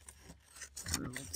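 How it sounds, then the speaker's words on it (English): Scissors snipping through paper strips for a collage journal project, soft close rasping cuts that grow louder toward the end of the moment. "I'm going to cut right down between that."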